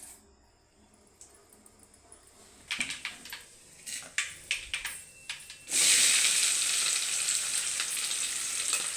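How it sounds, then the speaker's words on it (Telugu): Mustard seeds go into hot oil in a pan. Quiet clicks and taps come first, then a sudden loud, steady hiss of frying breaks in and carries on to the end. "చూడండి, నూనె పెట్టేసింది ఆల్రెడీ. నూనె పోసేసింది. ఆవాలు వేస్తుంది."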